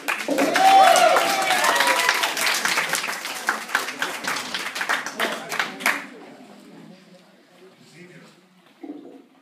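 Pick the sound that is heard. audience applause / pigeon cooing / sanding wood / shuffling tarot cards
audience applause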